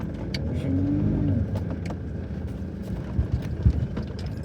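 A Mitsubishi L400 van with worn ball joints rolls onto a driveway, its engine giving a steady close rumble with a brief whine, then a few dull knocks and clunks near the end.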